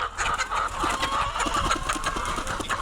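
A native country chicken clucks in short, irregular bursts nearby, with a steady low engine-like hum underneath and no talking.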